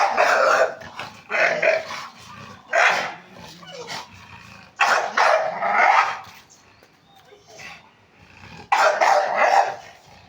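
A dog growls and barks in loud bursts at close range while fixated on biting a water bottle, with short pauses between the outbursts.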